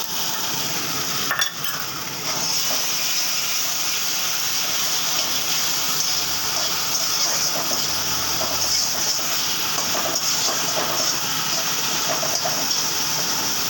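Green chilli paste goes into a hot pan, giving a steady, close sizzling and frying hiss with soft stirring scrapes throughout, no one talking.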